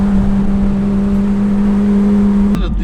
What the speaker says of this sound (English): We're on a test drive with this Lamborghini